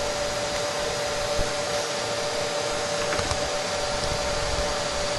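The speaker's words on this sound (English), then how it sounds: "The machine is held to the wall by the vacuum from the dust collector." Steady, loud broadband roar of a shot blasting machine held against a concrete tank wall by dust-collector vacuum, continuous and unchanging throughout with a faint steady whine running beneath it.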